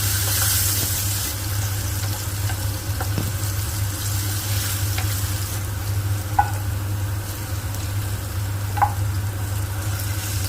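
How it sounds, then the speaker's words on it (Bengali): Potatoes with turmeric frying in a pan, a steady sizzle and crackle running throughout, with a low constant hum and a couple of faint clinks from stirring. "এই আলুগুলোকে ভালো করে নেড়ে নেড়ে পিঠো পিঠ করে ভেজে তুলে"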